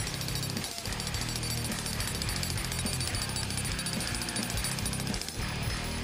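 A DEWALT D25980K pavement breaker hammers pavement with a loud, continuous stream of rapid impacts for six seconds, broken by only two brief dips.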